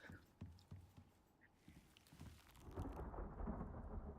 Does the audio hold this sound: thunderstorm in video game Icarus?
yes